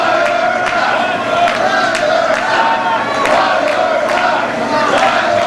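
Loud, continuous arena crowd at a CWE pro wrestling show, cheering and chanting steadily throughout, with rhythmic swells and sharp accents like stomps or slaps cutting through the roar.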